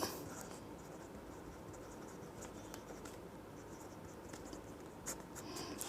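Math notes on angles are written out in a steady, soft scratching of strokes, close and continuous with small accents.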